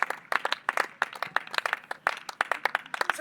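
A church congregation at a seminar claps to acclaim Jesus: brisk, uneven rhythmic clapping from a modest crowd, fairly close and steady throughout, with no talk over it.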